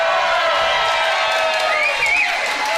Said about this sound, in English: We have a gigantic crowd here tonight.